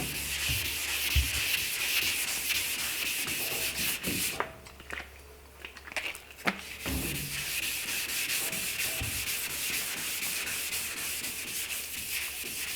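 Wet sanding primer on a car body panel with a sanding block: steady, close rasping strokes run almost continuously, with a short break in the middle before the rubbing resumes.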